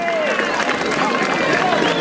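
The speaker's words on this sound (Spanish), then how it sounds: "Regálenme fuerte el aplauso, señoras y señores." Crowd at a rodeo bull-riding event clapping and cheering, a dense wash of applause with whistles, while an announcer's voice talks over it.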